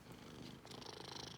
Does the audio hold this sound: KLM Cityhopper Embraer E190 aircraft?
no